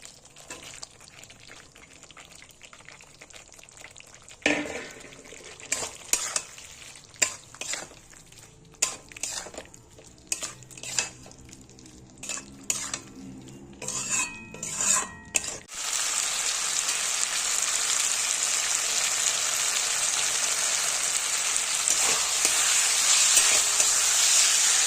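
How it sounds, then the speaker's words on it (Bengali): Fried cauliflower stirred with spices and a little sugar in a pan: sharp spatula scrapes and clinks over a low sizzle, then a loud steady hiss. "মশলার সাথে ফুলকপিগুলো সুন্দর করে মিশে গেছে"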